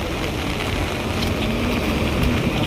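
Strong monsoon wind and rain sweep across Manila Bay, a steady loud roar of gusting wind and heavy rainfall, continuous and unbroken throughout.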